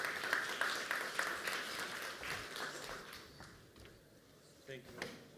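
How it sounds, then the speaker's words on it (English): An audience at a digital technology summit applauds to welcome a speaker to the stage, a fairly faint burst of clapping that fades out, with a few louder knocks near the end. "Please welcome him with a round of applause."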